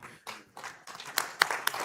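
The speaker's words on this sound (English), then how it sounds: "Yes, go ahead and clap. I enjoy it." Audience applause at an investment summit, several bursts of clapping rising and falling over about two seconds, moderately loud and fairly close.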